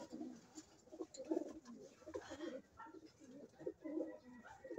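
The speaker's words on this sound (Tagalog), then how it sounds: "ito nanghuli tayo dito ng mga ibon" Caught breeder pigeons or doves coo continuously, with soft overlapping coos at close range over steady low background noise.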